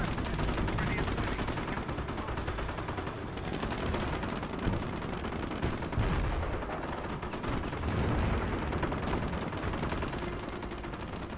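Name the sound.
artillery and gunfire in Company of Heroes video game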